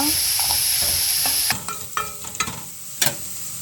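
Shrimp and butter fry in a pan for a garlic shrimp rice dish. A loud, steady sizzle opens, then breaks into several scraping stirs and clinks of a utensil at close range, with no talking.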